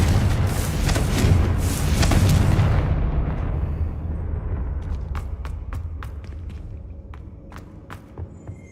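Confringo blasting spell from Hogwarts Legacy: a loud, close burst of explosive rumble that swells for a few seconds and then fades into a dull decaying roar, with a scattering of small sharp debris clicks and taps afterward.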